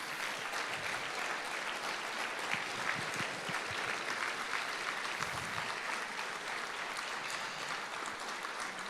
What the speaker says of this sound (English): One more big round of applause for this year's Broyles Award winners.